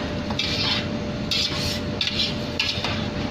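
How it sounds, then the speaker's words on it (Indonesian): Spoon scraping and stirring rice in a pot for Indian-style curry rice, with repeated scrapes in a steady rhythm, close and moderately loud, with no one talking. "Masukkan beras, aduk. Aduk sampai tercampur dengan rata."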